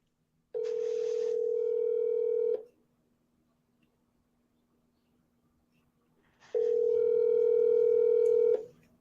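Two long ringback tones sound on an outgoing phone call to a property seller, each a steady electronic burr lasting about two seconds, separated by several seconds of near silence.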